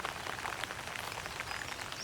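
Steady rain patters on a home vegetable garden in mid-June, a dense continuous hiss of drops striking leaves and weed cloth close by, with no voices.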